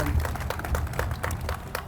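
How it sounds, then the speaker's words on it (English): A crowd applauds at a volunteer initiative launch event, honoring the Salvation Army. Dense, continuous clapping fills the whole moment with quick overlapping hand slaps and a low murmur of the crowd. "I want you all to give him a huge round of applause"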